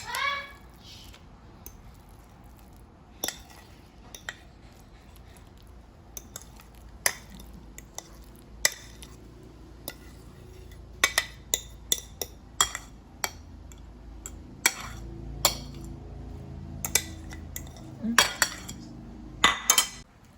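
A utensil mixes mashed avocado in a bowl for guacamole, giving a run of sharp clinks and scrapes against the bowl that grow busier toward the end, with quiet background noise between strokes.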